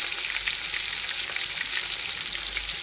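Ingredients for a Hyderabadi tomato chutney sizzle in hot oil on a stove, a loud, steady, close frying hiss that runs unbroken without any voices.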